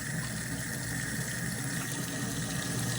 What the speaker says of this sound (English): turn off that faucet